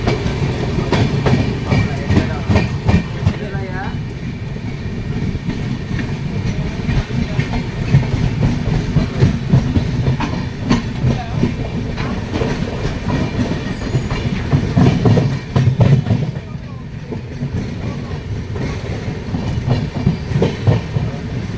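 The Kamakhya–LTT Karmabhoomi Express runs at speed after leaving NJP, a loud, steady rumble of wheels with continuous clickety-clack and rattling, heard close from on board with faint voices now and then.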